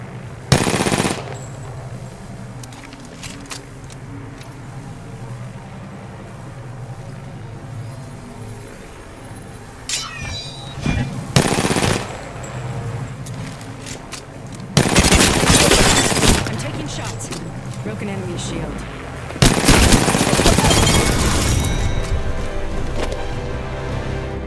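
Gunfire in Apex Legends comes in several loud bursts of rapid automatic shots, spread across a quieter stretch of game sound with occasional single shots between the bursts.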